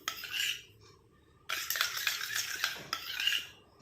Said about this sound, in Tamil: இப்போ நல்லா மிக்ஸ் பண்ணியாச்சு.